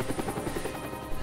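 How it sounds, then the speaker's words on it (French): A police combat helicopter boss in Lego Batman thrums close and loud, its rotor chop pulsing steadily throughout a short burst. "Hélicoptère de combat des flics, c'est ça notre boss."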